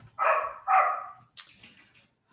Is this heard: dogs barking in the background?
yes